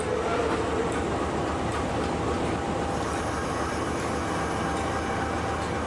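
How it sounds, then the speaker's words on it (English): Train noise during shunting, as a tank wagon is moved into place between diesel and steam locomotives at a high mountain railway station in New Zealand's South Island. It is a steady, loud rumble with no clear break, and no one speaks. "Shunting manoeuvres are required to place our tank wagon between the diesel and steam locomotives"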